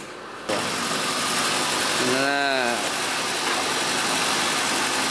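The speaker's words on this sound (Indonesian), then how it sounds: "Nah, suara mesinnya halus banget ini." A 1998 Suzuki Katana GX with its 970 cc F10A engine starts and then idles smoothly and steadily, loud and close, with a brief rising-and-falling whine partway through.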